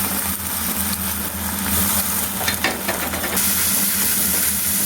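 Ginger sizzling in hot gingelly oil for an instant pepper mango pickle, a steady close frying hiss with faint stirring, constant and fairly loud with no talking.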